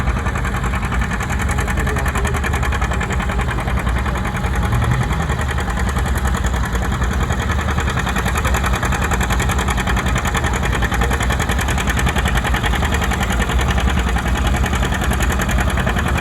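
A modified John Deere 70 diesel tractor at a tractor pull runs with a loud, continuous chugging drone and a steady pulsing beat, holding almost level throughout with no voices over it.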